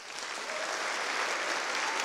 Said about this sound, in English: I would just say already give Mark a round of applause.